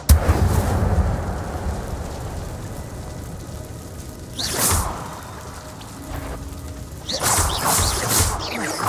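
Incendio fire spell cast inside a cave in the Hogwarts Legacy video game, heard as two loud whooshing bursts of flame against a dim, rumbling game ambience, with no voices.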